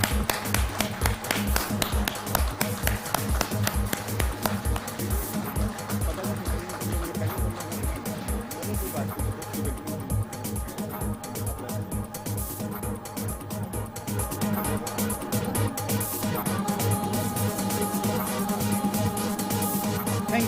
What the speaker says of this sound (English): So may I request all of you to kindly please give a big round of applause to Mr. Raju Shroff.